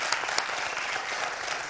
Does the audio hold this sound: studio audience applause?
yes